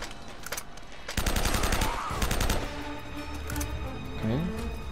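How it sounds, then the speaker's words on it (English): Rapid gunfire bursts from the video game Uncharted: Drake's Fortune, with dense automatic shots over a busy game soundscape at moderate loudness. "Oh, now you're shooting them."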